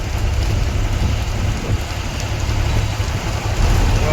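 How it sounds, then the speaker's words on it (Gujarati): Heavy rain pours down in a dense, steady hiss, loud and close, with no voices. "કેમ કે ઉપરથી વરસાદ છે ને"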